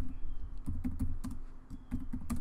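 Typing on a computer keyboard: a quick run of close, crisp key clicks in uneven bursts, faint and alone against a low hum.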